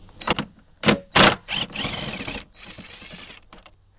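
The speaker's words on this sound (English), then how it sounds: "So I'm gonna go ahead and use an impact for this." An impact wrench spins off 13 mm bolts on a Rough Country spare tire carrier bracket in several short, loud, rattling bursts separated by brief pauses. It is close up, with no speech.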